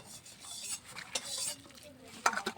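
Fritter batter of pumpkin flowers, onion and coriander with salt and nigella seeds is mixed with water by hand, giving soft, quiet squelching and rubbing, closing with a small clink.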